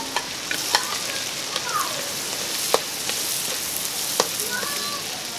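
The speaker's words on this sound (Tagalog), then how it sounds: "So magigisa na ako." Onions sautéing in a pan of oil give off a steady, close crackling sizzle, broken by a few sharp clicks of stirring. No one speaks.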